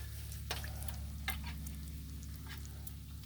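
Bacon frying on a Blackstone flat-top griddle, a steady close sizzle with faint crackles and pops and a low hum underneath, no talking.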